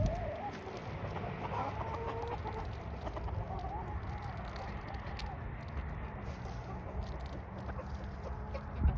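A flock of backyard chickens clucks and murmurs steadily, overlapping at close range, with occasional louder calls above the flock's continuous chatter.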